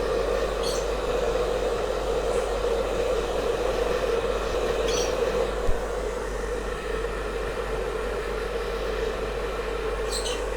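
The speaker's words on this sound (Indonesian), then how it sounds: "gue keringin rambut dulu aja kali ya" An 800W Han River HRHD01BK hair dryer blows steadily while drying hair, a constant airy whoosh with a midrange motor whine that stays loud and even throughout, with faint clicks here and there.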